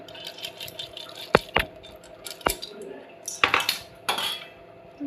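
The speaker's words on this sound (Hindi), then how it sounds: "बत्थू डालने के बाद दाल डालेंगे।" Lentils being added to bathua greens in a pan, heard as several sharp metallic clinks of a spoon striking the pan, with rattles and soft wet scraping between them, close and clear, with no talk.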